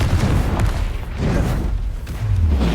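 Fiery Confringo spell blasts in Hogwarts Legacy on PS4, rolling booms with a low, heavy rumble repeating in quick succession, loud and close throughout with no pauses.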